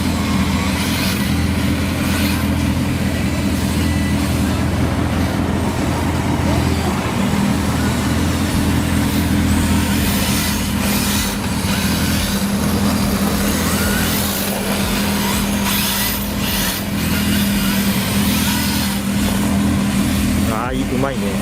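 A car on drift tires circles an outdoor circuit, its engine growling loud and continuous with rising and falling revs and rumbling shifts, mixed with road and wind noise.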